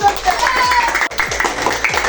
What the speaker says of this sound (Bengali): চমৎকার, তোমরা সবাই তালি দাও